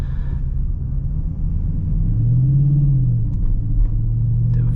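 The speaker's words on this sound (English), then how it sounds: "you have that roaring, muscular, harmonious V8" A Dodge Charger Scat Pack Widebody's V8 engine driving through stop-and-go traffic, a steady low rumble from inside the car that swells briefly as it revs up, then settles, with no talking.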